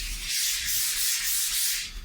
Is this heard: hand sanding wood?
yes